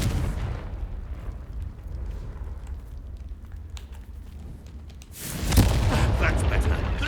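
A Confringo spell blast in Hogwarts Legacy, a sudden loud burst near the end following a quieter, rumbling stretch, with the explosive roar sustained for a couple of seconds.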